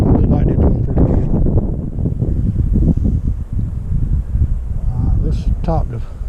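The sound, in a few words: wind blowing outdoors near a beehive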